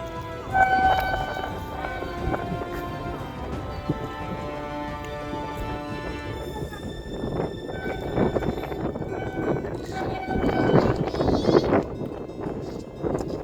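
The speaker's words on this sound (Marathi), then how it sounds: "आणि समोर आपली एक रेल्वे आलेली आहे" A train rumbles past with rhythmic clatter and scattered clanking, a steady mid-loud roar that swells toward the end.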